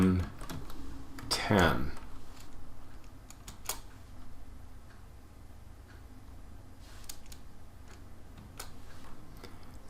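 Typing a command on a computer keyboard: scattered, fairly soft key clicks with a louder clatter near the start, while a voice speaks briefly.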